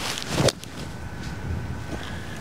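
Wind gusts across an open golf course, buffeting the microphone in a brief loud burst, then settling into a soft steady rush with faint low rumble, no talk.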